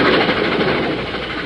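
A freight train rolls past in a steady, continuous broadband rumble, loud and close throughout, with a faint rhythmic rattle of rail cars and no voices over it.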